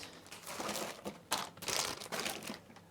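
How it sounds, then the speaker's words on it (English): Thin plastic bag from the packaging of a Lenovo V15 G2 laptop crinkles and rustles in a run of close, uneven bursts, with a few louder crunches near the middle and no talk. "The rest of the packing is plastic, is a plastic bag"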